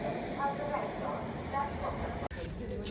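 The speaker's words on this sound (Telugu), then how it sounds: "ప్లాట్ఫామ్ నెంబర్ 3కి ఇప్పుడే ఒక ట్రైన్ అయితే వస్తుంది." Hyderabad–Sirpur Kagaznagar Intercity Express, a WAP 7 locomotive hauling ICF coaches, rolling into platform 3 with a steady low rumble, while a person talks over it throughout.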